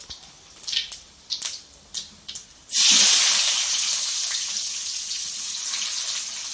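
Crushed fennel seeds go into hot oil for a Sunday chicken dish: a few soft taps come first, then a sudden loud hissing sizzle that holds and slowly eases, close by, with no talk.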